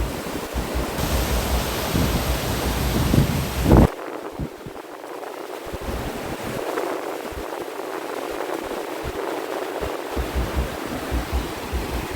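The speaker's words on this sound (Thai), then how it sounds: "เป็นลมพัดเข้าฝั่งนะครับ" Onshore wind and sea waves at a beach on a clear-water sea: a steady, loud roar of wind buffeting the microphone, mixed with continuous surf wash and gusty bursts, with no talking.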